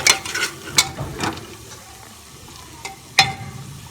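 Spices are stirred into veg pulao in a pan over light frying, with several scraping spoon strokes and clinks against the metal standing out from a soft sizzle.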